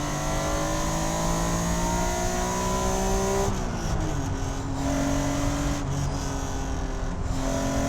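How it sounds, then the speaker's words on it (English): A 1991 Acura NSX driving on a road, its engine droning at steady pitch, then the tone dropping as it brakes hard and slows before settling back to a lower cruising note; interior perspective, no talking. "Hard on the brakes, slows down, back to normal speed"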